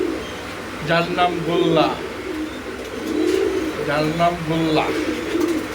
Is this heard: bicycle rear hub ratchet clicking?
no